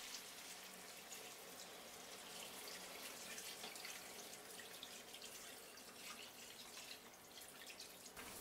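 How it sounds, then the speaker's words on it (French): Two litres of stock poured into a wide paella pan of chicken and seafood, a steady close splashing, liquid stream running without pause for several seconds and with no talk. "J'y verse les 2 litres 100 de bouillon."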